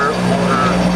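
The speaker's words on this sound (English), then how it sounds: "The pilot turns the motor on." A propeller aircraft engine runs at an airport near Kathmandu, heard as a loud, steady droning hum with a voice talking over it.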